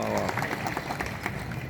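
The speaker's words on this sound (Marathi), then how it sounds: "जोरदार टाळ्या." An audience claps at a school gathering held for a religious discourse in Chikhli, with a short burst of fairly close, dense applause mixed with some crowd noise.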